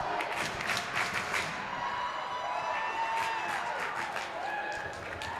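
A packed gym crowd at a volleyball championship cheers and claps for Tully, a dense, echoing wash of applause and shouts with a commentator's voice over it.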